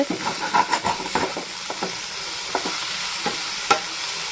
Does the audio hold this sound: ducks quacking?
no